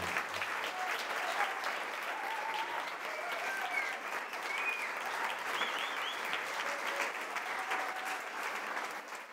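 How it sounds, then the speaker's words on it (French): An audience in Marseille claps in a sustained round of applause, fairly distant and even, with a few faint whistles or voices rising over the patter. "Je pense qu'on peut les applaudir encore."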